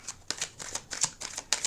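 Soft rapid riffling and flicking of tarot cards being shuffled by hand, a quick irregular patter of light papery snaps over under two seconds, close and fairly quiet.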